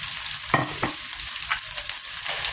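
Fried rice with chicken stirred in a sizzling pan, several short spatula scrapes over a constant frying hiss.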